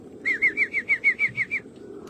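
A racing pigeon near its loft gives a run of nine evenly spaced, rhythmic calls or wingbeat pulses, close and clear over a low steady background hum, with no talking.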